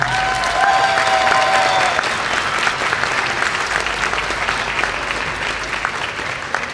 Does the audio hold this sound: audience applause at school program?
yes